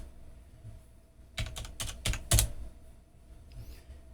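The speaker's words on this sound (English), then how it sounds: "apply it, put in my password." A short burst of about half a dozen computer keyboard keystrokes clacks close by as a password is entered on a Linux machine, set against quiet room hum with no speech.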